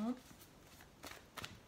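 A deck of tarot cards is cut during a reading, giving a few brief, soft papery snaps and riffles, close and quiet, spread over a second or two.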